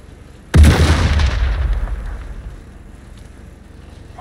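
A single grenade explodes in the video game Sniper Elite 5, a sudden loud, close boom followed by a long rumbling decay that fades over about two seconds.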